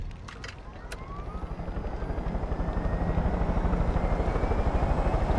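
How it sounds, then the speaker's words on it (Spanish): Helicopter in the video game Far Cry 5: a steady, loud rotor thump with a whining turbine, the blade beat growing stronger and faster as the craft climbs, with a few clicks near the start and no talking. "Este helicóptero ya no sube como antes, ¿eh?"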